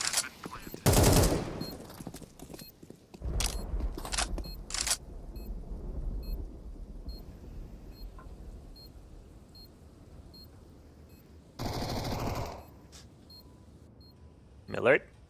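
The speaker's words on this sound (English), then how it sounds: "Nearly gets the frag on Miltsy." Gunfire during a professional Counter-Strike match, with several sharp bursts and single shots spaced across the round amid quieter game noise, while a commentator talks over it.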